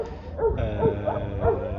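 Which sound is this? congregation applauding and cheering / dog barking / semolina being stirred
dog barking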